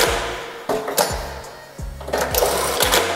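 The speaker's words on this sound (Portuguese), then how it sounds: "podemos fazer costura zigue-zague, que é esta costura zigue-zague" A Jack A8 industrial sewing machine runs short bursts of a zigzag reinforcement stitch, each burst a loud rapid mechanical whir with a thump as it stops, close up and alone.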